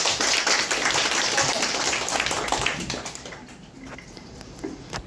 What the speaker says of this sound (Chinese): 俾啲掌声佢啊！